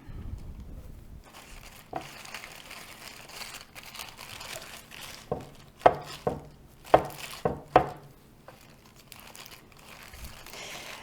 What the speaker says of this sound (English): Now I'm just going to do a rough chop on these because they're going into the frying pan.